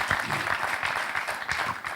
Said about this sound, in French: On applaudit Mombi.